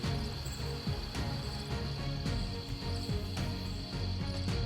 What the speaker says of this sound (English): You can hear the frogs. You can hear the cicadas.